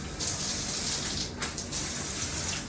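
Hotel shower with a rainfall head running at full pressure, a steady close hiss of spraying water with slight splashy fluctuations, no talk.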